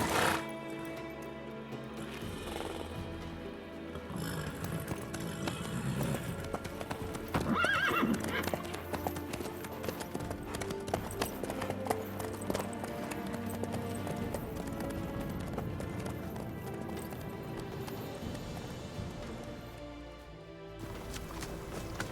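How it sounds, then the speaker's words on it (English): Horse hooves clip-clop steadily in The Witcher 3 video game, the rhythmic footfalls running throughout with a neigh midway, set against a continuous game music and ambience bed. "How's your horse? Swift?"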